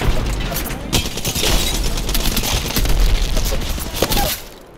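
A thrown frag grenade bursts amid heavy game gunfire in an Apex Legends-style shooter, the blast buried in a dense, loud mix of rapid shots and booms that runs continuously before cutting off near the end.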